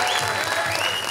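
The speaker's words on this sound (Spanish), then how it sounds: "Aplauso para Diana" Audience at a Halloween show breaking into loud, dense applause, a close burst of clapping that fills the moment on its own.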